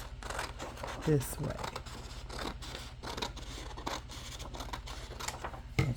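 Scissors snip across paper for a collage in several short, crisp cuts close by, with light rustling and handling between them and a brief spoken phrase.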